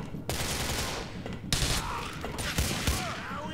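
Rapid gunfire erupts in Grand Theft Auto IV, close sharp bursts of automatic shots and separate cracks repeating over a few seconds with no talking.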